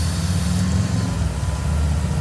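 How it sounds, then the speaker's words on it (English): A Rolls-Royce Silver Spur engine idles with a steady low rumble, its pitch settling slightly as it runs on. "See, the engine's trying to stabilize."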